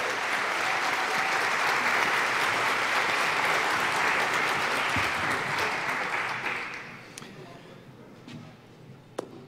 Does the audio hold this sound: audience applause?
yes